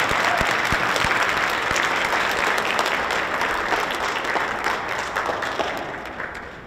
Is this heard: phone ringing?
no